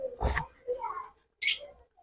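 Caged birds at a bird market stall call in short bursts, one bright, high chirp standing out among lower, rougher calls, fairly close with brief gaps between them.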